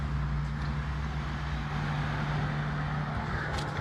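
A vehicle on a road at night, heard as a steady low engine rumble and road noise that holds at a constant level throughout, with no clear approach or fade.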